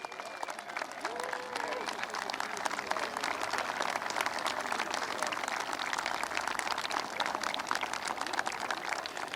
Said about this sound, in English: Let's have a nice round of applause for our players and their coaches